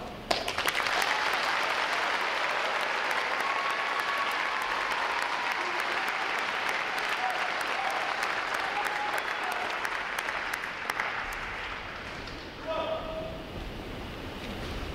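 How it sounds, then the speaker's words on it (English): A large crowd applauds at a U.S. Navy recruit graduation ceremony, steady loud clapping filling the whole stretch before easing off near the end. "join me in giving them and the four other outstanding graduating divisions here today a round of applause"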